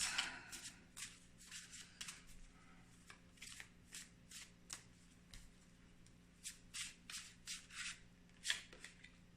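Tarot cards being handled and drawn by hand, producing quiet, close papery flicks and rubbing, with repeated short shuffling bursts scattered throughout.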